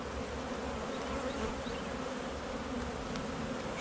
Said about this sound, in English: There's a lot of bees in this box.